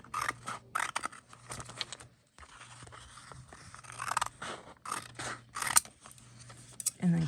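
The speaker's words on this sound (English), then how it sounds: "And then I'm going to cut up this way." Scissors cut through paper planner pages in a string of short crisp snips and scrapes with brief pauses, quiet and close, under some light talking.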